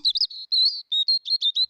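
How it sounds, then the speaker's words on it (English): A robin sings a quick series of bright, high chirps and short warbling phrases in rapid bursts, clear and close with brief gaps between notes. "Robin."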